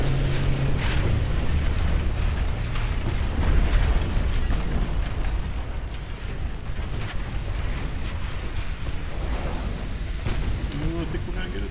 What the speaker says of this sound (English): Oh, I think we're going to get a torpedo hit. No. Two torpedo hits.